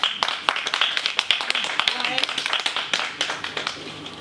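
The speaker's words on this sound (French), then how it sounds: "Il faut l'applaudir déjà, s'il vous plaît." A small crowd claps at the Paris launch of the Bada Bar from Yopougon, with distinct hand claps in an uneven rhythm close by and people talking underneath.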